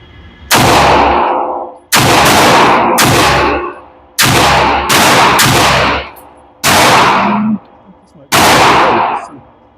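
Shots from an Alpha Foxtrot Romulus or MAC9 DS Comp pistol at a target range, seven loud, sharp reports spaced roughly a second apart, each ringing out briefly before the next, close and dominant.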